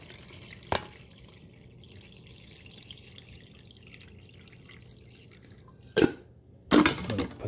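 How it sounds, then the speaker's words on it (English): Water poured into a Bunn Velocity Brew NHS coffee maker: a quiet drip near the start, a calm pause, then two short splashing pours near the end, the last one longer and louder; no voices. "Okay, so I'm going to pour some more water in."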